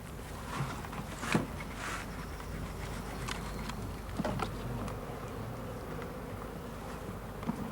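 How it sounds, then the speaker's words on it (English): Bees buzz around open hives at a summer beekeepers' gathering, a low steady hum with faint scattered bumps and rustles nearby, no talking. "I like bees."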